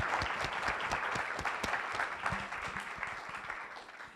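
An audience at an evening talk breaks into applause, a dense, even wash of many hands clapping at moderate distance, tapering slightly toward the end with no voices over it.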